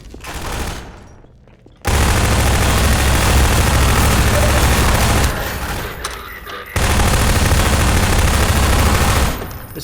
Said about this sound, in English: This is why I like the SMG in Half-Life. You just hold down the trigger.